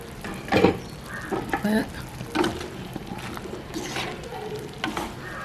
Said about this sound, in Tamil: கொதிக்க விட எடுத்து கிளறுவோம்